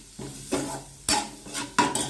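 Onions sautéing in a few spoons of oil for an aloo paneer kofta curry, stirred with a spoon in three or four distinct scraping bursts over a soft background sizzle, close and fairly loud, no talking.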